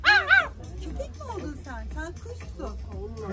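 Two quick, high dog-like barks, evidently a voice imitating a dog, open the clip, followed by softer chattering vocal sounds and a low background hum.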